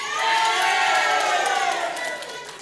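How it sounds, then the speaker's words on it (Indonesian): Supporters of candidate pair number 3 cheer and shout at a live regency election debate in Indragiri Hulu, a loud crowd roar with whoops that swells, then slowly fades over a few seconds. "untuk pendukung paslon nomor urut 3 untuk memberikan tepuk tangan kepada paslon yang didukung"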